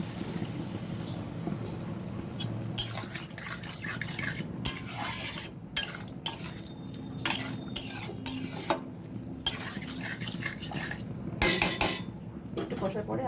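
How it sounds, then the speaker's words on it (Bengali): Banana flower curry sautéing in a pan with a splash of water: a metal spoon clatters and scrapes repeatedly against the pan over a soft sizzle, close and distinct, no talking. "এবার আমি একটু কষবো জল দিয়ে।"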